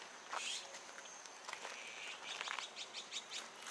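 Birds chirping on a misty morning, bright quick tweets and calls scattered in bursts, fairly close but soft, with no voices.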